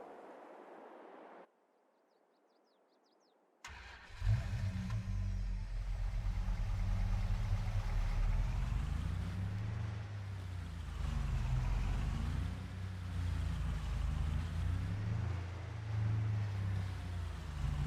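A car towing a small trailer manoeuvres and reverses on a narrow rural farm lane. After a brief quiet start, a close, steady engine rumble runs continuously with slight rises as it moves.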